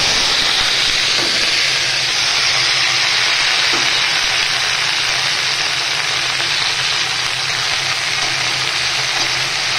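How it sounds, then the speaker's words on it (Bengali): Potatoes fry in hot mustard oil in a wok tempered with black cumin and dried red chillies, giving a loud, steady, close sizzle and hiss that runs unbroken without talk. "তো এবারে বটবটি আলুটা দিয়ে দেবো।"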